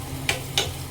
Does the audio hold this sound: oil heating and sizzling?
yes